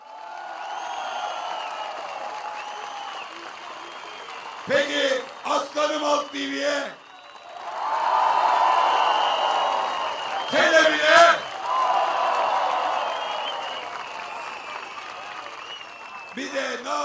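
A rally crowd at a CHP political meeting in Kartal claps and cheers in solidarity for Sözcü TV, swelling in broad waves between amplified bursts of someone speaking over the loudspeakers.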